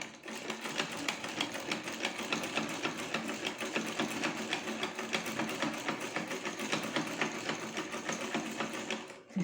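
A sewing machine stitches a kurti, running continuously at a steady fast rhythm of needle strokes, loud and close, with no speech over the rapid mechanical chatter.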